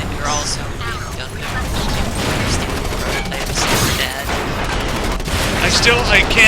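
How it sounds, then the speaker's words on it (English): Gunfire in the video game Front Mission Evolved: dense, continuous bursts of shots and mechanical clatter, loud and sustained throughout. "I can't hear you over the gunfire."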